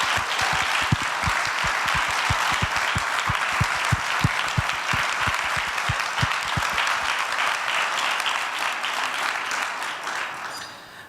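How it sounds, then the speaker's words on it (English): A large audience at a charity pitch event applauds steadily, the dense clapping loud and close for about ten seconds before tapering off near the end. "please join me in giving a huge round of applause to everybody that came up here"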